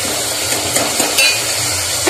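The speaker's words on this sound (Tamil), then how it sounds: "கிண்டி விட்டுக்கிட்டு இருங்க" Meal maker gravy with tomato and salt is stirred in a pan, a spoon scraping and clinking against the metal over a continuous frying sizzle, close and fairly loud, no talk.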